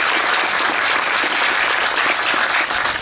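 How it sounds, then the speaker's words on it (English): An audience applauds a company president and CEO, with loud, dense clapping from a crowd that holds steady from start to end. "Let's give him a round of applause."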